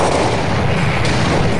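A gunshot from a Minecraft Transformer mod game blasts as a dense, loud burst of weapon fire filling the short moment with heavy booming noise.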